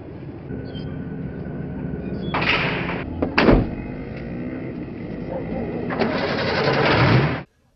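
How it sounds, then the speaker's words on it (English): A Honda motorbike engine from a Pulp Fiction film scene runs under a busy mix of war-film sound effects and airplanes, with bursts of broadband noise and a sharp clank in the middle before it cuts off abruptly. "we hear more war-related sound effects, airplanes, and then motorbikes as Butch gets back in the Honda"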